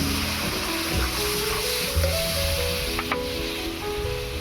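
A splash of water hits a hot pan holding salt, turmeric and chilli powder, setting off a steady, close sizzling hiss that holds evenly throughout.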